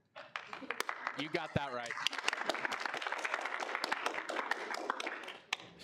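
Students at a student senate meeting break into a burst of steady, fairly close clapping that carries for several seconds, with a few voices calling out over it.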